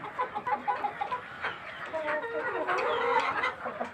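A white rooster clucking on a small farm, a series of short, fairly faint clucks and calls in quick irregular bursts over light background noise.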